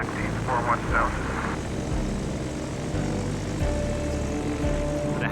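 A propeller plane taxiing, its engine drone steady and close with a pulsing low throb and rising tones, loud throughout.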